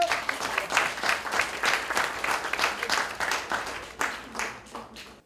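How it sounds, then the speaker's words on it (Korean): A crowd claps steadily at a Korean party gathering where Lee Jun-seok and Yoon Suk-yeol meet after Yoon joins the party. The applause is loud and continuous for about five seconds, with individual claps audible. "박수 쳐주세요"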